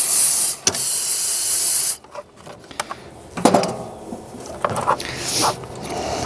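Cleaning fluid hisses in a sharp spray through a carburetor jet from a Trail Wagon TW200 utility vehicle, a loud steady burst that cuts off, followed by quieter clicks, handling noises and short squirts.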